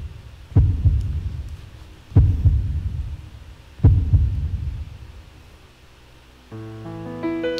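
A heartbeat sound effect in a song gives three deep, booming thumps, evenly spaced about a second and a half apart, before the music swells in at the end.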